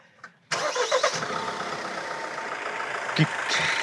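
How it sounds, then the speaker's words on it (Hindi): A Mahindra Scorpio Classic S11 SUV engine starts with the hood open: brief cranking, then the motor catches and settles into a steady mid-pitched idle, close by, with a short voice at the start. "मैं आपको स्टार्ट करके अगर दिखाऊँ तो ये अगर देखते हैं इसको स्टार्ट करके ये देखिए इंजन को देखना कि कितना हिलेगा"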